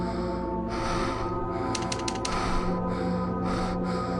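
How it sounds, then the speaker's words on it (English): Deep, heavy breathing in the horror video game Womb of Worms, slow rasping inhales and exhales over a low droning hum, with a brief burst of mechanical clicking partway through. "That's very deep breathing."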